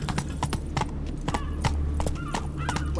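Geralt's horse Roach trotting in The Witcher 3, crisp rhythmic hoofbeats clopping steadily and close over a low ambient hum, several beats each second.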